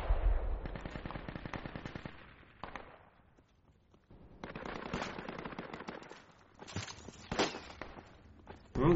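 Automatic and single gunshots in Project Reality, the military shooter game, crackle in dense bursts, then a lull, then more rapid volleys and a sharp report at the end, loud and close.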